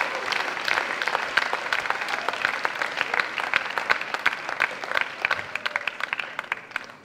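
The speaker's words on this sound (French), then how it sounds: "Vous pouvez applaudir." An audience at a church youth conference claps at a speaker's invitation, bright, rapid applause that stays dense and lively before gradually thinning toward the end.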